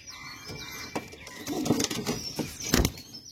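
Pigeons flap their wings in quick, sharp bursts close by, with faint cooing and rustling in between.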